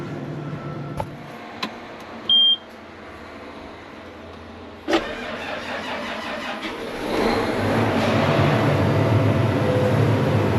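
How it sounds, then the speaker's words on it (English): A vehicle engine, boosted from a dead battery, cranks and fires after some clicks and a thump, then settles into a steady running rumble that grows louder toward the end. "We got lights and we got engine power. So we got her started."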